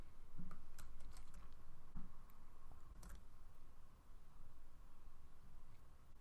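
Quiet computer keyboard typing, scattered key clicks in short bursts with pauses, faint and close against a soft background hiss.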